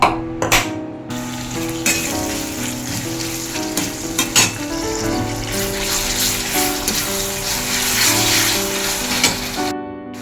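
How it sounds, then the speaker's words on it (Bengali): Spices frying and sizzling in a pan for a tomato fish curry, a steady loud crackle with stirring scrapes and a few sharp clatters throughout. "এই যে আমি হচ্ছে মশলাটা কষাইতে দিয়েছি"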